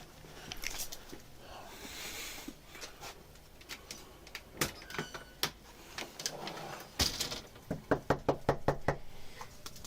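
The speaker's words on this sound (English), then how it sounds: "This is when the officers go up to the wrong house, start knocking on the door." Police officers knock on the door of the wrong house, with sharp raps that come in scattered bursts and then a rapid run of knocks near the end over a quiet background.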